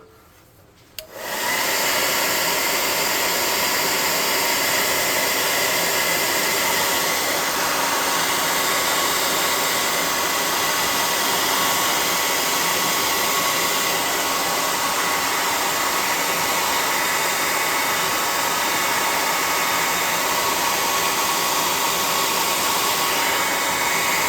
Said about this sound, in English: Let's hit him with the hot air gun.